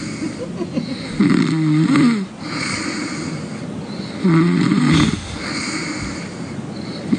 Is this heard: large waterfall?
no